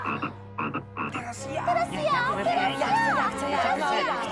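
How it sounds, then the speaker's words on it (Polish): Cartoon toad croaking in an animated Smurfs episode, deep rhythmic croaks at first and then a long warbling croak, with childlike voices talking over it. "Wracaj, dobrze, miła ropucha!"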